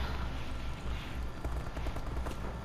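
Gunfire in Call of Duty: Advanced Warfare, a steady wash of distant shots and bursts running under dense game noise throughout, loud and continuous with no voices.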